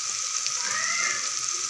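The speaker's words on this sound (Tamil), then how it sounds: "தக்காளி நல்லா வதங்கட்டும்." Tomatoes sautéing in a pan for a South Indian crab gravy, a steady soft sizzle with faint hissing and no talk.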